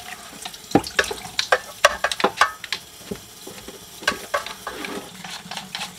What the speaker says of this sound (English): So I'm gonna take this inside and wash it.